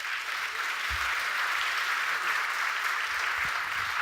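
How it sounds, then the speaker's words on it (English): Banquet audience applauds after a keynote talk, a dense, continuous wash of clapping from a large room, steady and fairly loud with no voices over it. "A big hand of applause"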